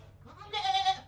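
A goat bleats once, a fairly loud, wavering call lasting about half a second with a short softer lead-in, heard close by over a low steady hum.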